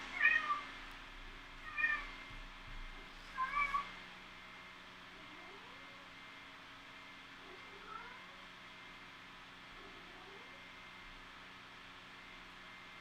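A pet cat meows for attention, three clear meows in the first few seconds followed by softer, drawn-out cries later, close by over a faint steady hum, with no talking.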